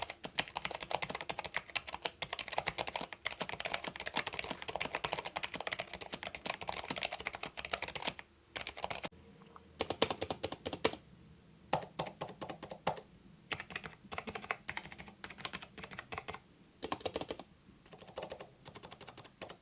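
Typing on a Keychron K3 version 2 low-profile mechanical keyboard with brown switches, steady close-up clacking keystrokes in quick bursts with a few short pauses and no voices.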